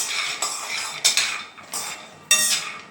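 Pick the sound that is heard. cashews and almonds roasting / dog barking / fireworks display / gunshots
cashews and almonds roasting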